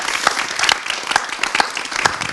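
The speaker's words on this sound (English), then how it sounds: "Give them a round of applause." Audience applauding a panel discussion at a cultural event in Amsterdam, steady dense clapping from a sizable crowd, fairly close and sustained throughout.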